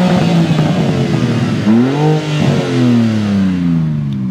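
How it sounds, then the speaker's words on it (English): A tuned 590 hp BMW M3 Touring revs hard in a wooded spot, the engine climbing and falling through a few loud, close rises in pitch with a rumbling idle between them. "give it a couple of revs"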